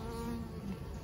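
Steady, dense buzzing of honeybees in a long hive, a continuous hum with no pauses, fairly close and even in loudness.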